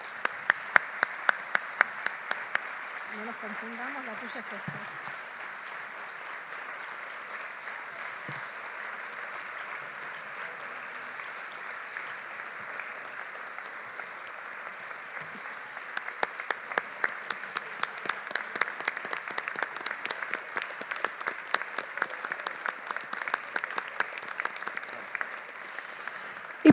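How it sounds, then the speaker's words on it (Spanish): Audience applause at an annual business conference, heard as faint, scattered clapping with a brief spoken line early on, fading to a thin patter before building again into a fuller round of claps. "un aplauso enorme para este equipazo"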